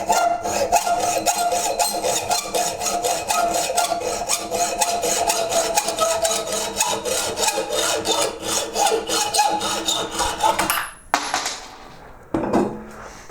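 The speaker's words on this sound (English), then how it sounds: "So in here, with my trusty hacksaw." Hacksaw cutting through a soft metal nail, rapid rhythmic back-and-forth rasping strokes, close and steady for about ten seconds before stopping, followed by a couple of brief scrapes.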